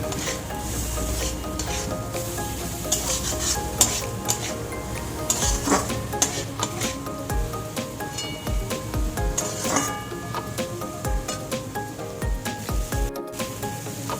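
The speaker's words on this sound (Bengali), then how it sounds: "ধনের গুঁড়োটা দিয়ে একটু ভালো করে কষিয়ে নেব যাতে কাঁচা গন্ধটা না থাকে।" Coriander powder is sautéed in a pan for a duck egg do-pyaza, a steady sizzle under scraping and clinking spoon strokes that grow busier and more irregular throughout.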